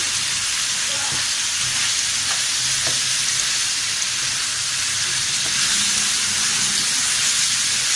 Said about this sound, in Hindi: अब हम थोड़ा सा इसको भूनेंगे जब तक इसका कलर चेंज ना हो जाए।